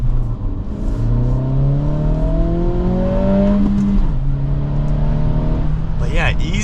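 2023 Acura Integra A-Spec with a manual gearbox accelerating, its engine note climbing steadily through a gear before a shift drops the pitch, heard from inside the cabin while someone talks over it.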